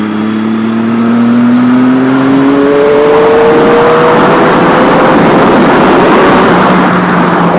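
A motorcycle cruises along an open road, its engine droning loud and close with pitch climbing steadily as it accelerates through gears, wrapped in heavy wind rush.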